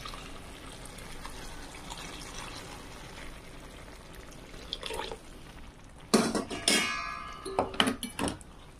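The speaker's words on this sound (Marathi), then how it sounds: "यात टाकून पाणी." Water poured into a pan of usal, a Marathi sprouted-bean gravy curry, splashing and gurgling loudly in bursts near the end after a quiet start.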